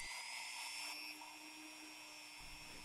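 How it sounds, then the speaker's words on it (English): A small high-pitched rotary drill whines steadily while boring a pilot hole into a plastic action figure part, close up with no voices and a slight drop in pitch midway. "So I'm just drilling a pilot hole, and now a bigger hole"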